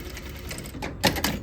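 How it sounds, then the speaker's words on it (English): A sewing machine stitches an elastic waistband on a circle skirt, a close, rapid mechanical whirring with a few louder clacks near the end, no voices present. "once we're done sewing the waistband together with the elastic"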